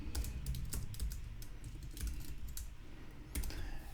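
Steady typing on a computer keyboard, a close run of quick key clicks with brief pauses, quiet and alone without any voices.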